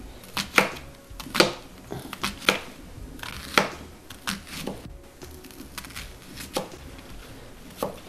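Kitchen knife finely chopping a small-to-medium onion on a cutting board for pizza sauce, a run of sharp, close, uneven taps with short pauses between bursts.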